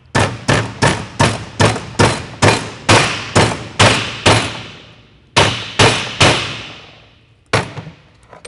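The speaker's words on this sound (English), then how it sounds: "Take your ball peen hammer," A ball peen hammer strikes a metal ring again and again in a steady rhythm, each blow ringing out sharply; a short pause, then a few more hits.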